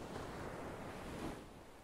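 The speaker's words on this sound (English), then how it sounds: "continuing to listen to the sound of the waves" Steady ocean surf washes onto a beach at night in a soft, continuous rushing hiss with a gentle swell near the middle, distant and even, with no voices.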